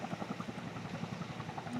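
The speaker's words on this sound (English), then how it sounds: "You guys can watch the helicopter drop the water." Firefighting helicopter flying over a wildfire near Disney World, its rotor chop beating steadily and fairly close throughout, a dense low rhythmic thumping with no talk over it.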